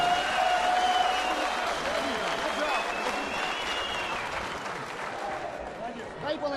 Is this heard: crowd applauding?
yes